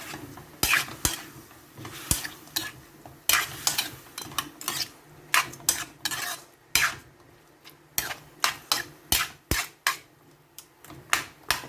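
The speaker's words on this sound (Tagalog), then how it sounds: "Haluin muna natin." A spoon scrapes and clatters against a cooking pot while chicken soup with sotanghon noodles is stirred, making repeated irregular metallic strokes over a faint simmering hiss, close up with no talking.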